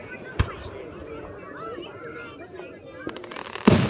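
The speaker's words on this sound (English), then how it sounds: "Really big fireworks shells." Fourth of July fireworks with glittery sparkling shells: distant booms and crackling pops over steady background noise and faint voices, with a sharper burst near the end.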